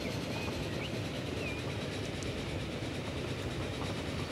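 A train runs on rails in the video game Transport Fever, a steady loud rolling rumble with faint clicking from the wheels continuing evenly throughout.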